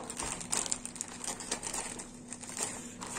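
Plastic packaging of NTUC crinkle cut fries is unwrapped up close, with steady, busy crinkling and rustling throughout.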